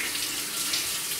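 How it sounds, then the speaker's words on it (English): Tap water runs steadily into a kitchen sink during dishwashing, a continuous close splashing hiss that holds at an even level with no talk. "the water that's dropping down is also helping to rinse the other items that were already in the sink"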